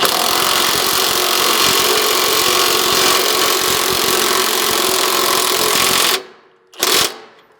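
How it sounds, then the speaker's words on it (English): An impact driver hammers a 1/2-inch mounting bolt home while fitting a strike slider to a second-generation Toyota Sequoia, a loud, dense rattling burst lasting about six seconds, then stopping abruptly with one short final rattle. "You can then use an impact to drive this bolt in."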